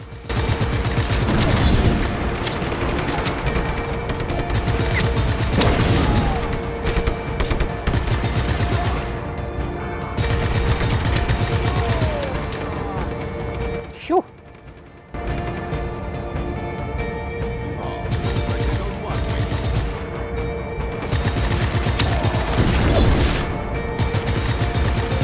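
Gunfire in the video game Just Cause 3, sustained bursts of rapid automatic shots and mechanical clatter over a dense, loud backdrop, with a short lull midway before the shooting resumes.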